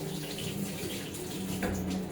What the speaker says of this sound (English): Now, after mixing it, let's put water.